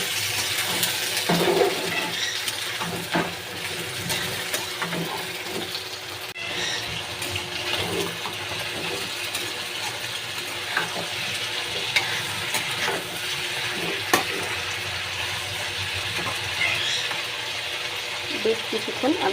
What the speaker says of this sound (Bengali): এবার আমি ছালটা আর পাটা দিয়ে দেব, দিয়ে কিছুক্ষণ একটু ভেজে নেব।